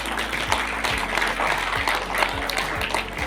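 An audience at a student felicitation ceremony for 10th and 12th graders applauds in steady, dense clapping that fills the hall, with a voice faintly underneath.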